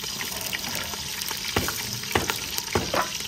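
Green chilies and onion fry in ghee in a pot over a wood fire, a close hiss with a few spaced scraping stirs and a faint high whine throughout, no speech.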